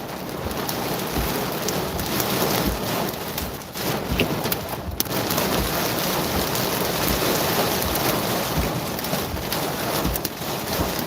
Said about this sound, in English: I got winds up to about 25 to 30 miles per hour and some pea-sized hail currently.